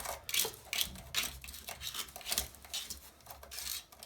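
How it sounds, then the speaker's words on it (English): An X-Acto knife scraping excess material off the side of a model train coal load, a close, quiet series of short raspy strokes repeating at an uneven rhythm. "I'm just going to run this X-Acto knife just down the side. Just kind of scrape off any of the excess."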